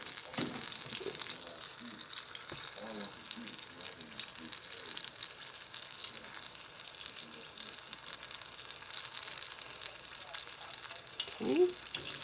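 Apple fritters made with Bisquick frying in hot oil, a steady soft sizzle and bubbling throughout, with occasional light clinks of a utensil turning them.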